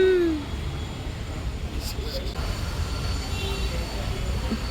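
A metro train rolls past close by, a steady rumble that lasts the whole stretch, with a short, high wheel squeal near the start.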